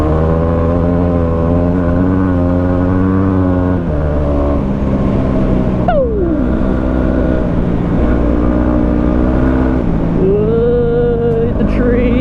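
Yamaha WR250R dual-sport motorcycle ridden hard on road tyres at full throttle, engine droning loud and close with a continuous harmonic whine, a sharp pitch drop as it shifts down a gear, then climbing again.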